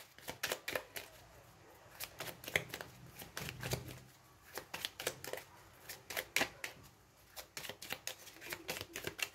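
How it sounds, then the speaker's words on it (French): A deck of cards is shuffled and cut during a tarot reading, giving quick papery riffles and soft flicks in close, irregular bursts with brief pauses between runs. "Je vais quand même faire une coupe hein."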